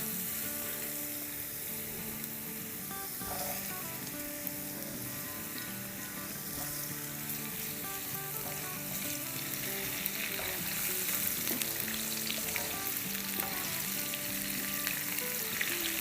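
Garlic, cumin and chillies sizzle steadily in hot oil while a dal tadka is stirred, a continuous close crackling fry with faint clinks, no talking.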